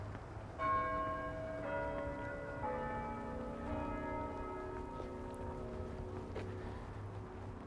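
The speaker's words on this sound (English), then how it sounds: "And that would be the bell signifying 11:15." St. James Cathedral's bell rings out over downtown Toronto on a snowy winter day, several sustained tolls that overlap and ring on, heard from outdoors at a moderate distance against low city and wind noise, with no talk.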